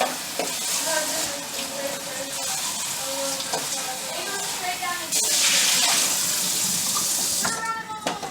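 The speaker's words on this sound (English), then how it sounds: "Just going to rinse it out from the dust." Water running into a lasagna pan as it is rinsed, a steady splashing stream with clinks of the pan, louder rush near the end, voice briefly audible.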